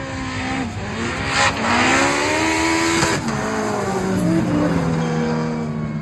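A drift car's engine screams at high revs, bouncing and stuttering against the rev limiter, with some tire noise, close and continuous throughout, at a drifting competition.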